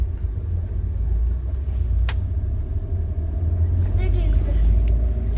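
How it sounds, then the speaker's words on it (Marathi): Highway traffic near Daman rumbles steadily close by, cars and heavier vehicles blending into a continuous roar, with a sharp brief click partway through and faint voices beneath. "ट्रॅफिक आहे पुढपर्यंत"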